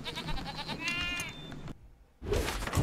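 The sheep enemy Sheep Creep in the Skylanders Trap Team video game gives a wavering bleat, close and clear amid busy game sounds, followed by a brief near-silence and a loud burst of noise.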